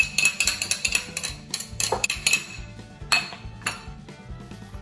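A utensil clinks and scrapes quickly and repeatedly against a bowl while okoy batter is mixed from flour, tapioca flour, cornstarch, onion, celery, shrimp, bean sprouts and sweet potato. The clinks come in rhythmic bursts with short pauses.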